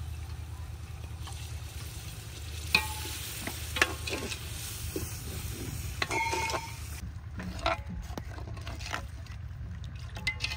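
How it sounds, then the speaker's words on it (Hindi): A spice masala with red chilli powder and turmeric fries in a pan after a splash of water, sizzling softly under repeated scraping stirs and clanks of a spoon, with a lower steady hum beneath. "पानी डालने के बाद अभी मसाले को अच्छी तरह भून लेंगे।"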